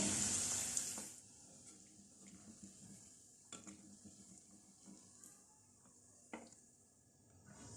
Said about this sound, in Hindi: मोती में आहिस्ता आहिस्ता ये लाइट गोल्डन कलर में बहुत ही खूबसूरत फ्राई हो चुके हैं